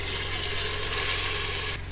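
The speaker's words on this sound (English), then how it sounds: "we're going to add our tomato sauce, water, and Worcestershire sauce" Canned tomato sauce pours into an Instant Pot as a steady liquid glug and splash that runs for most of the moment before cutting off abruptly near the end.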